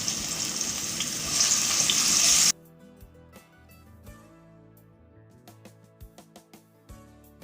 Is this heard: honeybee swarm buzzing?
no